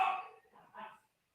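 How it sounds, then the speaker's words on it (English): A couple of short, muffled dog barks sound in the background of an indoor room, faint and brief, then quiet. "you can hear my dogs barking in the background again"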